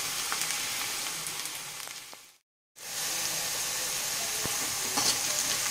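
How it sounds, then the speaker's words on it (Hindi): Onions fry steadily in a pan toward golden brown for a black chana masala, a loud, dense crackling sizzle that drops out briefly before resuming just as strongly. "हम इसे थोड़ी देर बाद भूनेंगे जब तक ये गोल्डन ब्राउन ना हो जाए"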